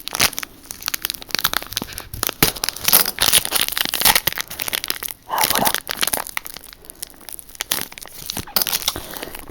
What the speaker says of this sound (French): Je vais essayer de ne pas déchirer le booster.